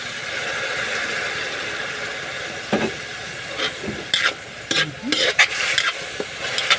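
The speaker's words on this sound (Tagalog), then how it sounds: "maglagay po tayo ng konting toyo" Soy sauce poured into a hot frying pan, giving a steady sizzle with scraping stir strokes and utensil clatter growing busier toward the end, close by with no talk.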